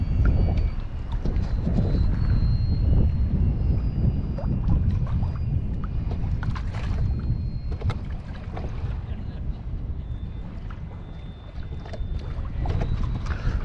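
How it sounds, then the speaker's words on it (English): Wind gusts across fishing line and a small Sun Dolphin PRO 102 boat on Caballo Lake, New Mexico, giving a steady rumbling buffet with faint thin whistling tones and water lapping nearby. "I hate that noise when the wind goes past your string like that. It makes that sound."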